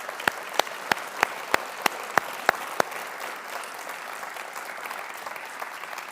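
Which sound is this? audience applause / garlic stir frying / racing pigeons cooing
audience applause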